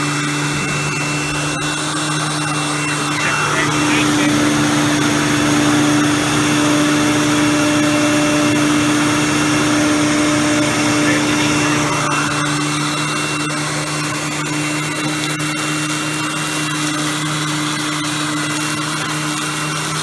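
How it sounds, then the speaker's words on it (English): Hoover Tempo Widepath upright vacuum cleaner running on carpet, a loud, steady motor whine with a fixed pitch and constant airflow roar, close and unbroken for the whole stretch. "You will note how loud this motor sounds."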